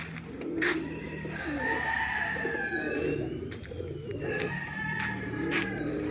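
A flock of racing pigeons cooing in repeated soft, rolling calls, several birds overlapping at close range with scattered brief clicks and flutters around them.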